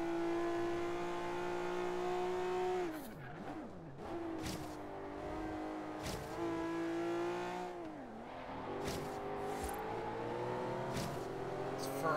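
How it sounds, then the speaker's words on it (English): A Ferrari engine in the racing game Forza Horizon 3 revs and pulls steadily, its pitch dropping sharply with each gear change, punctuated by brief clicks and thumps, loud and close with no voices. "This Ferrari drives really nice."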